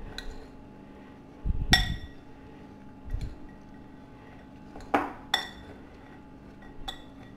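A spoon clinks against a bowl while black gram chaat is stirred with salt, giving a few sharp taps spaced out over quiet background, close and moderately loud.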